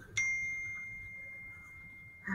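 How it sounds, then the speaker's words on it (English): A phone notification dings once, a clear bright tone that rings steadily for about two seconds before fading, fairly quiet in an otherwise calm room with no talking. "my phone is dinging."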